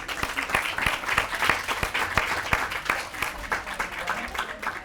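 An audience at a university closing ceremony gives sustained applause, dense clapping with sharp individual claps standing out near the front, continuing steadily for several seconds.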